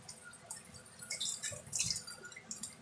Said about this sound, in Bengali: এবার আমি এর মধ্যে একটুখানি জল দিয়ে দেবো